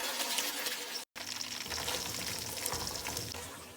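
Ingredients fry in desi ghee, a dense, steady crackling sizzle that cuts out for a split second and then resumes at the same even level.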